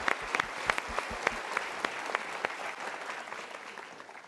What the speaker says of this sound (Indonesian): Kita berikan tepuk tangan untuk mereka.